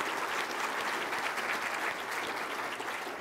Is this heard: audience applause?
yes